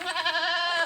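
A young goat kid lets out a single short, wavering bleat, loud and close, with no other sounds around it.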